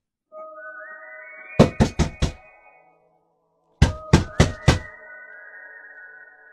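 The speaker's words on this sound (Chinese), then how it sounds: "突然就听见他坐的这椅子下边传来锤打声" Sharp hammering knocks come from under a chair as a story sound effect, two quick bursts of four loud thuds each, set over eerie sustained tones.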